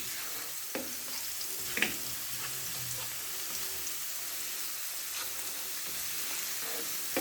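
Chopped garlic frying in a pan for a mustard-greens and spinach saag, a steady broadband sizzle that holds evenly throughout, with a few brief clinks of a spoon stirring near the start and middle.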